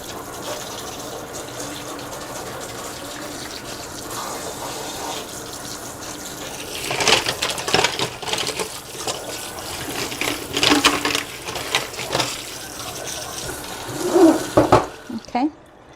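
Water runs steadily from a tap as makeup brushes are wetted at a sink, a continuous close splashing that swells and gushes louder as the brushes move under the stream.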